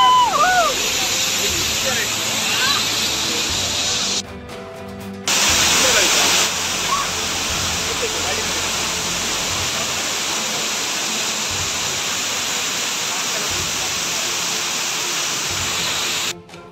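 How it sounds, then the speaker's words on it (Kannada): Alagavari waterfall roars with a loud, steady wash of rushing water. Brief breaks in the sound come from wind buffeting the microphone, and voices are heard over the roar early on. "Okay, ಅಲಗಾವರಿ falls."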